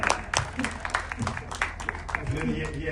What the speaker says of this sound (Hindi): एक बार तालियां बजा दो।